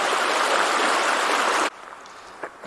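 A creek flowing in the Montana backcountry near a ghost town: loud, close, broadband rushing water that cuts off abruptly partway through, leaving faint background noise and a couple of soft knocks.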